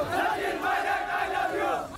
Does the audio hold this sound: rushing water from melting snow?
no